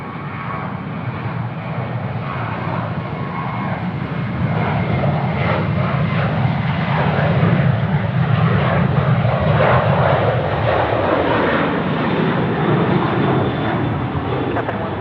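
A jet airliner at Sydney Airport holds on runway 34 right, a broad engine roar rising slowly and staying loud and steady, with a radio voice heard over it.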